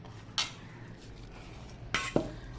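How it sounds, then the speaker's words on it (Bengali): Mung dal cooked with peas, coriander leaves and tomato is added to a cooking pot, heard as a few sharp utensil clinks and a quick scraping clatter against a quiet background hiss. "তো মুগ ডাল দিয়ে দিচ্ছি।"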